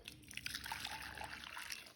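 Hot water is poured from a container into a bowl, making a faint, close-up trickling and splashing stream that runs steadily for about two seconds.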